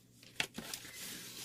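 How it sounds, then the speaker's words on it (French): Sheets of paper being folded by hand to crease the structure of a mini album, with a few short, crisp crinkles and rustles, faint and close, with no talking. "Je vais plier comme ça, tout simplement. Pour marquer mes plis."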